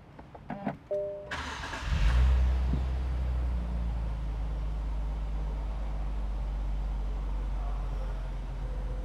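A Nissan Z Nismo starts with a few starter clicks, then the engine catches with a loud bark and settles into a steady, smooth low idle that runs on alone.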